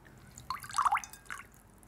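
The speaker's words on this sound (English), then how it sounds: "drain them so there's no excess water, and we'll place them into the salad." Water dripping and trickling as cooked noodles are drained for a beef and noodle salad, a brief cluster of close splashes and drips lasting about a second.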